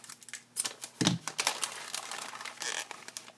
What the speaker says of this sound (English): I'm going to go ahead and cut open down at the bottom.